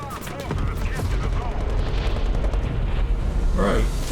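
Tank cannon fire and battle explosions in the War Thunder video game come as loud, dense, rumbling booms and cracks. A deep roar sits underneath, with a sharper burst near the end.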